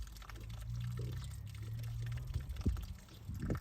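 Water trickles and pours into a newly dug pond cut through laterite rock and clay. It makes a steady, close gurgling flow with a few splashes near the end and no talking.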